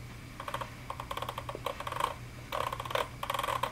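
Scroll wheel on an Akai MPC500 sampler turned lightly, giving close, quiet clusters of rapid ticking clicks in bursts over a low steady hum.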